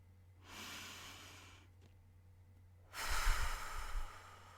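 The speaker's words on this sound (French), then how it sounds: "Prends une profonde respiration." A slow, deep breath during meditation, a long airy inhale followed after a pause by a louder, rougher exhale, heard close up in a quiet room.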